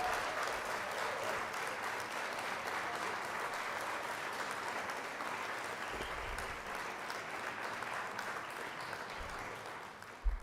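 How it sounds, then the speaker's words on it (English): Audience applause rolling on for about ten seconds as a dense, steady patter of many hands, fairly even in volume and ending with a sharp thump. "Clap it up for my man, Nicholas Perkins."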